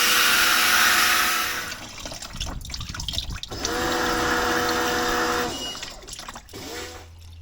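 Diesel-petrol mix pours and splashes into the sump of a scrap 18R Hilux engine, a loud liquid rush with gurgling that stops, restarts, then trails off.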